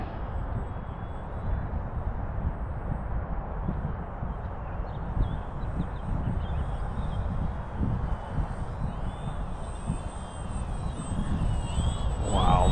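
A radio-controlled model airplane flies in high, gusty wind: a steady, loud roar of wind buffeting throughout, with a thin, high motor whine running on top.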